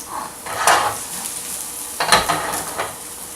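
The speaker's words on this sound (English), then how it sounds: "Remember, hot pan, hot oil. I hear the sizzle." Food sizzles in a hot oiled pan, with bursts of crackling and scraping as it is stirred. Brief louder surges rise above a quieter frying hiss.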